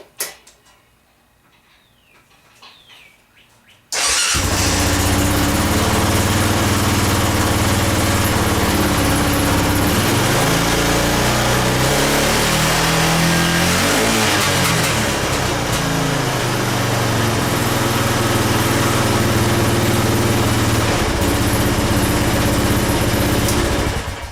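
A Honda Foreman ATV engine with a previously sticky carburetor float catches after a few quiet seconds, then runs loud and steady close by with slight surges in revs, with no talking.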